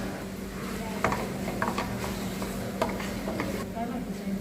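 Choux pastry filling of corn with mixed herbs, chilli and paprika being stirred in a pan, with soft scraping and light sizzling under a steady background hum.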